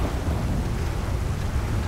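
Heavy rain with rumbling thunder in the video game GTA 5, a dense, loud low roar and steady downpour filling the whole short stretch, with no speech.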